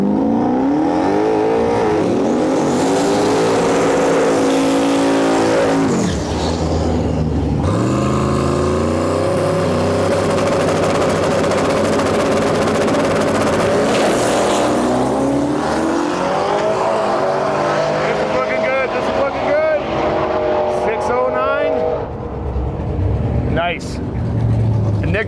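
An LS-swapped 1990 Volkswagen Jetta makes a drag racing pass at Rimby, its V8 roaring loud and close as it launches and climbs through gears, then fading down the track, with an announcer talking over it.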